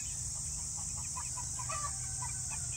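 Chickens and young chicks in a shared coop pen give scattered soft clucks and peeps over a steady background hiss, faint and fairly distant.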